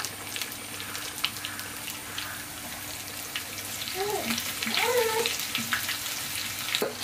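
Shallots, curry leaves and mustard seeds frying in coconut oil for a home-style curry, a steady soft sizzle throughout with a few brief whistling tones and light clinks near the end.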